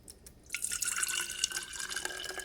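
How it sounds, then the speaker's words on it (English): Clove tea poured into a jar, a close, bright trickle that builds into a steady gurgling stream after a couple of faint drips, no talk. "we're going to pour it into the jar"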